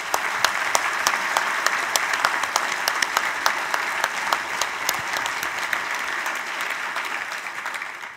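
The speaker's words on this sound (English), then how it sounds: "I ask now for a final round of applause for our award winners and for our gifted and talented faculty." An audience at a Naval War College convocation ceremony claps for award winners and faculty in sustained, dense applause that stays steady and fairly loud throughout, with no speech over it.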